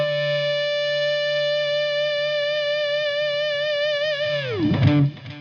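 A sustained, buzzy electric guitar note through an overdrive pedal rings steadily with rich overtones, then bends sharply downward and breaks up at the end.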